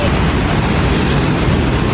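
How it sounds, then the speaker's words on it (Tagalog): Strong sea waves surging onto a shore in Pangasinan, a dense, continuous broadband roar with wind buffeting the microphone, loud and close throughout. "ito na yung dagat niya kahit normal na yung panahon lakas ng alon yun eh"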